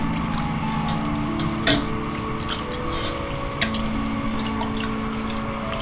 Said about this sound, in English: quickly blanch the noodle in the room temperature water for about 5 seconds